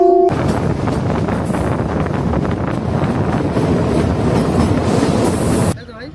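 A Kalka–Shimla toy train rumbles steadily with loud rolling clatter and wind buffeting the microphone after a brief horn tone at the start, then cuts off abruptly near the end.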